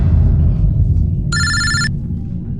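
A telephone rings once in a short, bright electronic tone burst over a low droning background, sitting prominently above the rumble for about half a second.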